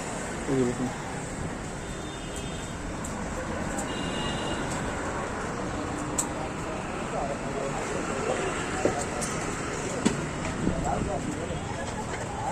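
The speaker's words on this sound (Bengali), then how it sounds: "মেট্রো এসে গেল" A metro train arriving at a station, a broad sustained rumble with occasional metallic clanks and squeals, heard amid background voices of a busy platform.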